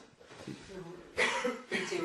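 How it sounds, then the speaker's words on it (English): A man coughs in two harsh bursts, close by, with low murmuring voices in the background before the first cough. "it is a bad cough"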